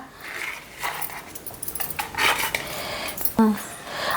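A knife cuts boiled vegetables into pieces with a series of light, uneven taps and clicks, followed near the end by a sharper metallic clink from a utensil.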